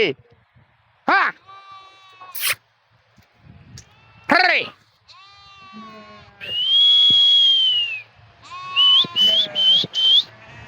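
Sheep on a farm flock of about a thousand bleat in several loud, wavering calls, some near and some overlapping, with a person calling out and speaking between them.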